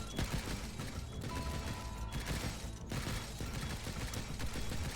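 Defensive guns firing barrages in the survival game Stranded: Alien Dawn, a dense clattering rattle of rapid shots with mechanical clicking, steady and loud throughout, no voices.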